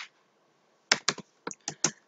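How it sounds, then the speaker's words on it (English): Computer keyboard typed on while coding in Java: a quiet pause, then a quick cluster of six crisp, close keystrokes in an uneven rhythm, with no talk. "Take that E out and try typing int, and again give space."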